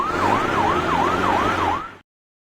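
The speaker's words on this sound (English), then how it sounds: "Fire truck." A video-game fire truck siren wails in a fast repeating up-down yelp, loud and close over a low engine hum, lasting about two seconds before stopping abruptly.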